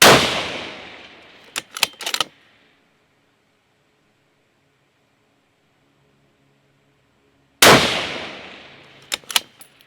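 Two loud 6mm Creedmoor rifle shots fired outdoors at a steel target, several seconds apart. Each sharp blast decays into a rolling echo, and a quick cluster of faint metallic impact pings follows shortly after.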